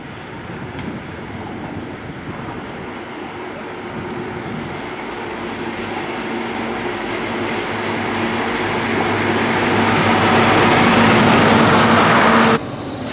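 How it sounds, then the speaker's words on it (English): Class 43 HST train at Camborne station in West Cornwall, a loud rumbling diesel roar that builds steadily over about twelve seconds and then cuts down sharply. "we're just about to board our Class 43 HST, 3 stops to Penzance."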